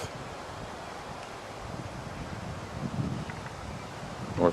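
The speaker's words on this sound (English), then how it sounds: "Wind is blowing." Wind gusting through trees outdoors at a rocket launch site, a steady broadband rush with rustling foliage that swells slightly toward the end, continuous and fairly loud with mic buffeting and no speech.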